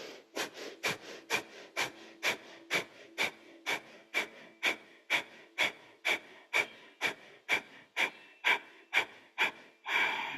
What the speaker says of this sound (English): Extend the arms, breath of fire for a count to 21